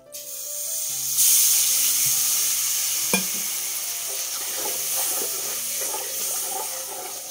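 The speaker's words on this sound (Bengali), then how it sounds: "জল দিই এবার একটু।" Water poured into hot oil in a flat wok bursts into a loud, steady sizzle that spreads and hisses continuously, with a brief clatter partway through and no talking.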